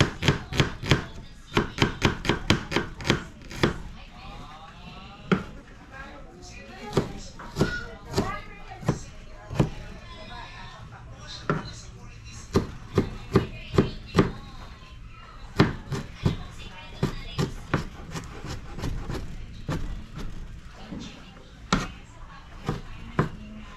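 Onion chopped with a knife on a cutting board, sharp close knocks in quick irregular bursts with short pauses between runs, fairly loud and alone without talk.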